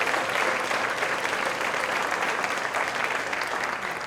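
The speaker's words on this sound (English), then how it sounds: "So let's give that program and those folks a round of applause." Awards ceremony audience giving a round of applause for a school residence program, a loud, dense, sustained burst of many hands clapping close to the microphone throughout.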